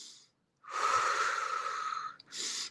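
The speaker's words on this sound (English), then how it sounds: "they will hear your rhythmic breathing, and they might catch on." A person demonstrates rhythmic breathing: a short breath, a pause, then a long, raspy, wheezy exhale followed by another breath, close and clear with no talk.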